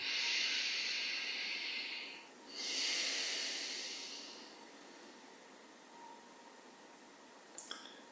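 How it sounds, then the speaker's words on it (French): Two long, deep breaths during a guided yoga meditation, each a soft, airy rush of breath, followed by quiet with a few faint clicks near the end. "Puis on respire profondément, le ventre donc sort au début de l'inspire et rentre à la fin de l'expire."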